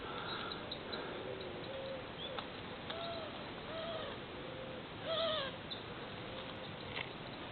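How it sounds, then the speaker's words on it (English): Pigeons and doves coo alongside small birds chirping in a shaded alley, a busy layered chorus of repeated calls and tweets at moderate distance with steady background noise and no talk. "Pigeons, doves, and loads of other little birds tweeting away."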